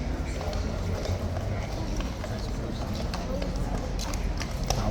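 Hooves clip-clop in a loose, irregular rhythm over a busy outdoor din, with people talking in the background throughout.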